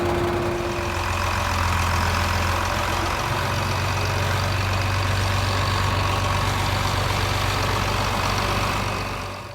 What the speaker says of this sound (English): our gearbox is making a lot of noise